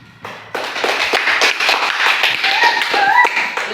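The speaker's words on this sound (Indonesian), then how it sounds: "Silakan tepuk tangannya temannya." Elementary schoolchildren in a classroom burst into enthusiastic clapping together, a dense, loud patter of many hands that starts abruptly and continues steadily, with a few voices mingled in.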